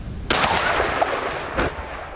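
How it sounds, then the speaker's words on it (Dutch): A sudden heavy demolition blast followed by a rolling, rumbling roar and a second thud, loud and echoing as a large mast comes crashing down. "klonk er een hevige explosie, gevolgd door het omvallen van de eerste mast"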